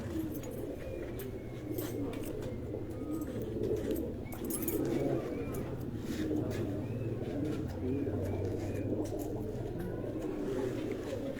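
A golden-coloured pigeon coos softly in a loft, a low steady murmur of cooing that runs throughout, with faint background noise and occasional bird sounds.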